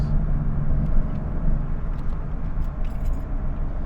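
A Nissan 370Z NISMO fitted with a Fast Intentions exhaust driving along, a steady, loud low engine and exhaust drone with road rumble heard from inside the car, no voices.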